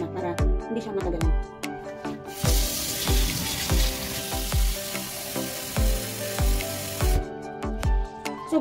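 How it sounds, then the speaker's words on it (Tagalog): Tap water runs into a cooking pot in a home kitchen for a Finnish recipe, a steady rushing hiss lasting several seconds, framed by clinks and knocks of cookware before and after. "kukuha ako ng water para magpakulo na"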